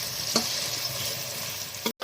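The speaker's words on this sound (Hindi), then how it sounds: "मैंने डाल दी है घी में प्याज, अब इसे ब्राउन करेंगे प्याज को।" Onions browning in ghee sizzle steadily in the pan, with two sharper stirring scrapes at the start and end, heard close up with no talking.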